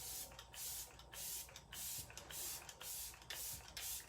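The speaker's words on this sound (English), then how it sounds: "So it's the Let It Set Refreshing Spray." Several quick mists of Arbonne Let It Set Refreshing Spray over finished makeup, a run of short airy hisses at close range, each burst about half a second long with brief pauses between.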